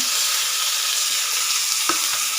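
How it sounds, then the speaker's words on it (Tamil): Tomatoes and curry leaves sautéing in a hot pan, a loud continuous sizzle close up with a sharp clack of a spoon against the pan near the end. "கொஞ்சம் கருவேப்பிலை, நம்ம எடுத்து கட் பண்ணி வச்ச தக்காளி அதையும் வதக்குவோங்க"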